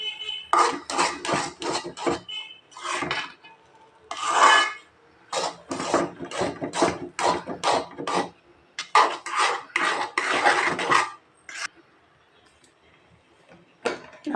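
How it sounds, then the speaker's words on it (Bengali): Chickpea halwa stirred continuously in a cooking pot, a metal spoon scraping and rasping against the pot in repeated close strokes with brief pauses, no talk. "যখন এই বুটের হালুয়া রান্না করবেন অনবরত নাড়তে হবে"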